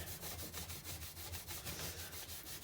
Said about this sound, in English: And finish up with a bit of Scotch-Brite